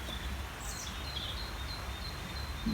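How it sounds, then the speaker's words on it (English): Birdsong in woodland near a river sounds as faint, distant chirps and high whistles above a steady, broad background wash that could be flowing water. "Lots and lots of bird song,"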